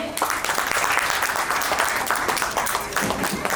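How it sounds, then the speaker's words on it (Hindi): A crowd at a 75th birthday celebration claps continuously, a dense, steady round of applause from many hands close by. "प्लीज तालियां होनी चाहिए"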